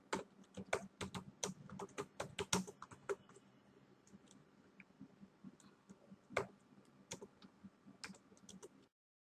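Fingers tapping a computer keyboard to type a title, a rapid burst of crisp key clicks at first, then slower scattered taps and a few louder strokes, close and quiet, no talking.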